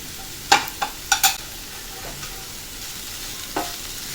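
Mixed vegetables including broccoli, corn and chopped tomato fry on a high flame under a constant sizzle, punctuated by several quick scraping stirs early on and one more later.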